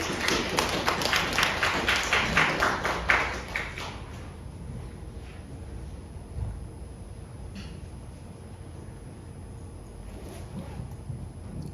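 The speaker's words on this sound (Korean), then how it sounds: "영광의 박수를 보내시기 바랍니다." A church congregation at a Sunday service claps in a quick, rhythmic burst for about four seconds. The clapping then dies away, leaving quiet room noise with a few faint scattered taps.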